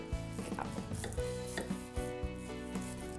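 A knife cuts through a baked gluten-free vegetable tart, giving several soft crunchy taps and thuds against the pan over a steady hum of background tones.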